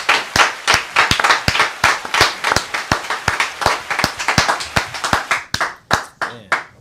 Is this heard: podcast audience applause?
yes